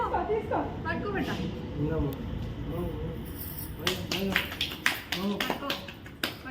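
Several people clap at a baby's annaprasana ceremony, scattered sharp claps growing denser toward the end, heard over ongoing talk.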